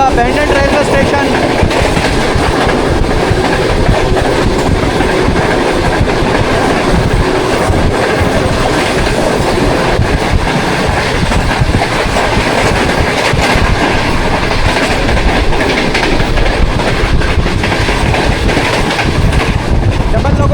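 Pakistan Business Express hauled by a double locomotive running through Jia Pakka station, loud continuous rumble and rhythmic clickety-clack of wheels on rails throughout, close and steady.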